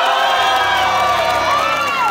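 A crowd of high school students cheers and shouts continuously at a TV game show studio, loud and dense, with whoops and young voices rising over the steady roar for a contestant.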